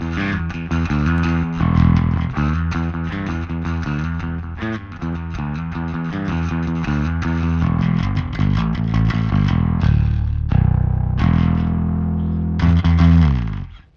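A bass guitar played with a pick runs through an Aurora DSP Mammoth plugin with vintage-style high-mid distortion, giving loud, steady, gritty driven notes that sound alone for the whole stretch.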